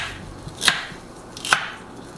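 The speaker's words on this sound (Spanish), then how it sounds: "cortamos el apio" A knife chops celery on a cutting board with two crisp, separate strikes about a second apart against a quiet kitchen background.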